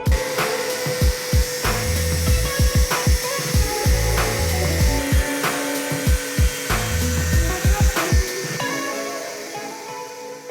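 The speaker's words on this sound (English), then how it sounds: "But let's cut this part out first." A power tool cuts out a steel section of a custom subframe on a Honda CB 400 motorcycle, a loud sustained grinding whine broken by repeated sharp rasping bursts at a rough, uneven rhythm.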